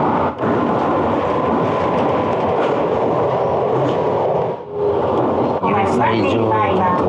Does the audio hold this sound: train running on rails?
yes